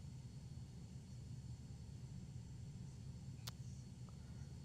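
Steady, quiet broadband drone inside the cockpit of a Cirrus SF50 Vision Jet in flight in a flight simulator game, even and unbroken, with a single brief click partway through.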